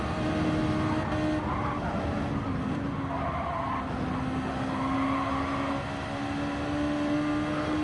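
A race car engine at full throttle in Gran Turismo 7, a steady high-pitched engine drone held for about eight seconds with tire squeal layered over it and no voices.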